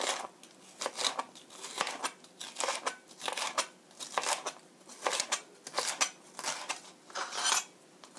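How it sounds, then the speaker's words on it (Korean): A knife slices thinly through a green bell pepper on a cutting board, making a steady run of about fifteen crisp, evenly spaced cuts, close and clear with no talking. "그린벨 페퍼, 피망, 피망도 이렇게 얇게 슬라이스해서"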